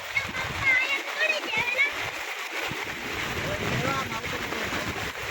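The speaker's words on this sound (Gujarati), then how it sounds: "આ જો પાણી અહીંયા કેવું જાય છે" Rainwater runs and splashes along a flooded path in a heavy downpour, a steady broadband rush with scattered splatters, while people talk nearby.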